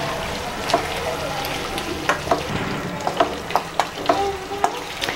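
Fatty pork fries in its own rendered fat for chilli pork, a constant close sizzle broken by sharp spatters and pops, some from stirring, loud and steady throughout.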